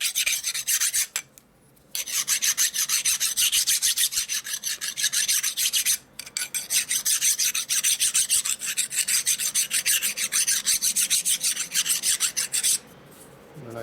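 A hand file rasps along the rough metal edge of a part from a 2001 Gilroy Indian motorcycle under rebuild, steady back-and-forth strokes that are loud and close, with two brief pauses and no talking.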